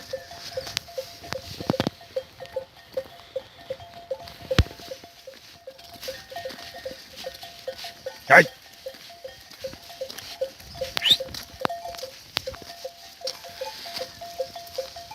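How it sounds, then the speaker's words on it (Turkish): A mixed flock of sheep in Sorkun village, Bozkır district, Konya, with bells clanking in a steady irregular patter close by. Occasional bleats and scattered knocks sound over the bells, and nobody speaks. "Koyunları soran oluyor. Koyunlar karışık."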